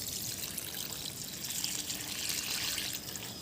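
Water poured from a bowl onto a tulsi plant in hot sun, a steady hissing splash and trickle running without a break, close and fairly loud with nobody speaking.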